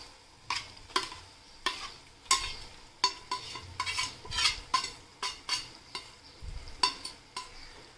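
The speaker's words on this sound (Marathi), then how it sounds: "आता आपण कोळंबी सगळी यामध्ये मिक्स करून घेऊयात" Marinated prawns stirred into a spicy masala gravy in a pan for prawn pulao, with repeated close scraping strokes of a spoon against the pan and a soft sizzle underneath, no talk.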